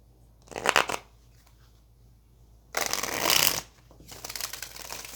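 Two bursts of tarot cards being riffled and shuffled, crisp papery rattling close by, with a brief pause between them and quiet room tone.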